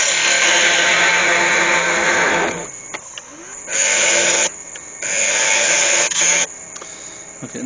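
Wood lathe facing off a turned piece, a loud steady whirring cut that drops out and returns in several bursts, with quiet gaps of machine idle between the passes.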